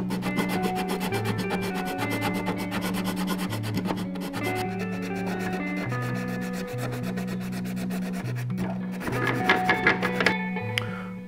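Hand sanding of a wooden quarter-scale boat frame with 80-grit sandpaper, heard as a steady scratchy rubbing that runs throughout and grows louder and rougher near the end, with a tonal background underneath.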